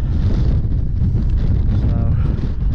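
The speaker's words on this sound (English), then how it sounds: "So wind's coming from behind me," Strong hilltop wind on Kinder Scout buffets the microphone in a constant heavy low rumble with gusty surges, loud and close throughout.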